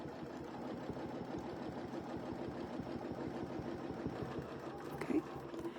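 Sewing machine stitching quilt pieces for a spring quilt made with templates, a rapid, steady mechanical whir with even needle pulses, close and moderately loud throughout.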